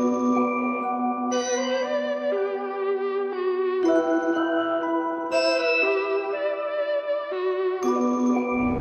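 A bright synth lead plays a stepping melody over layered sustained synth lines, changing notes every second or so, clean and alone without voices, in a dark trap style.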